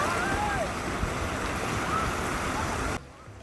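Waves wash onto a Chicago beach in a constant broad roar with wind buffeting the microphone, then cut abruptly to a quieter background.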